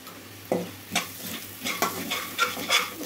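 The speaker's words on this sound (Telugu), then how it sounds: "పచ్చివాసన పోయేదాకా బాగా వేగాలండి అల్లం వెల్లుల్లి పేస్ట్ కూడా." Baby potatoes fry with turmeric and salt in a pan, a steady sizzle broken by several close, scraping stirs at an irregular rhythm, with no talking.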